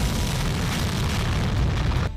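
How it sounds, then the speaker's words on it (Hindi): GPS-guided bomb dropped from an F-16 detonating on its target during a military exercise, a sustained dense roar of blast noise filling the whole two seconds before cutting off sharply. "F-16 लॉन्च करता है एक GPS गाइडेड बम जो अपने टारगेट पर सटीक जाकर हमला करता है।"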